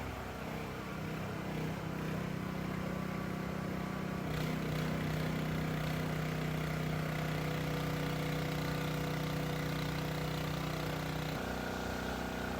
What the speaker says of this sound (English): We hook it up to a load bank to test the real power, check for voltage, stability, monitor engine temperature